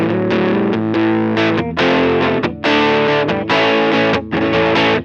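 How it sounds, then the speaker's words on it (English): Electric guitar run through an EarthQuaker Devices Barrows fuzz pedal, loud saturated chords ringing in several bursts with short gaps, thick and distorted with no voices. "The Barrows is already a perfect thing, with a massive, gorgeous voicing of one of the most sought-after fuzz sounds of all time"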